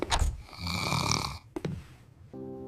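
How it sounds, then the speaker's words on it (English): A sleeping woman snores in a few loud, rasping breaths that fade into quieter breathing, with a short tonal hum at the end. "No wonder she's snoring."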